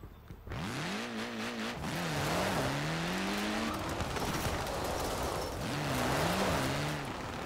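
A car drifts in Forza Horizon 4, its tires squealing in long wavering, pitch-bending bursts over a steady engine roar, with a second squeal run near the end; loud and close throughout.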